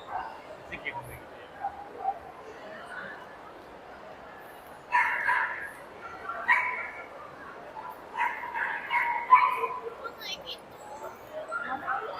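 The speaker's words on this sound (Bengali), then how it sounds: "এই যে দেখেন অনেক কুকুর।" Several dogs in a supermarket pet area bark and yip in scattered bursts, moderately distant and fairly faint, with people talking quietly in the background.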